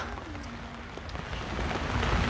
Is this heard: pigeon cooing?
no